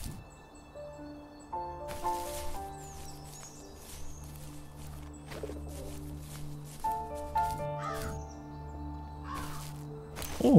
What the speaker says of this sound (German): Oh, Raben.